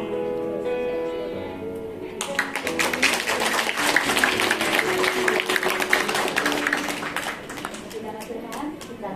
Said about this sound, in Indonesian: Sekali lagi berikan tepuk tangan kita, saudara.